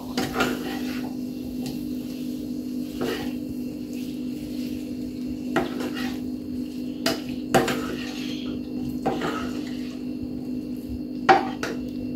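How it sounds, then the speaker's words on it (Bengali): A utensil stirring and mixing vegetables and tofu with hot sauce in a pan, scattered clinks and scrapes against the metal at irregular intervals over a steady low hum, with no talk. "সব কিছু আমি একত্রে নেড়ে মিক্সড করে নেব"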